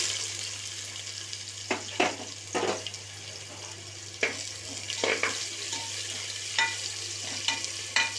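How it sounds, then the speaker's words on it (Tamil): Onions added to hot oil with fennel flower, cloves, cardamom, bay leaf and cinnamon for Dindigul mutton biryani, giving a soft steady sizzle with a few louder stirring scrapes, close by and without talk. "இதோட இப்போ வெங்காயத்தை சேர்த்துக்கலாம்."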